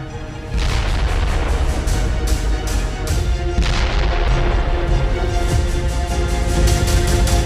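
Explosions from a large Ukrainian drone attack on Russia rumble in repeated heavy booms over a dense, continuous roar of wartime noise, loud throughout with no voices.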